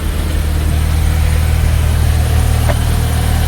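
A Mini Cooper that runs but cannot drive, damaged from a salvage crash, idles while parked; a steady low engine hum continues unbroken throughout with no talking.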